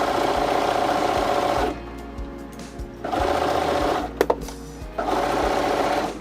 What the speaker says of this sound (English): Remember only to sew through the front ply of the fabric so we don't sew through the back.